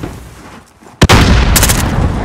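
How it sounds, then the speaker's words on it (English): A grenade explodes in Call of Duty: Modern Warfare, one sharp loud blast after a quieter lead-in, followed by a rumbling, ringing tail. "Throwing a grenade over the map."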